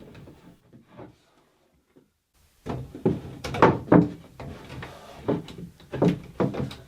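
A wooden drawer on a handmade console desk slides and knocks on its runners, giving a series of hollow wooden thumps and scrapes. A few soft taps come first, then a louder stretch of repeated bumps.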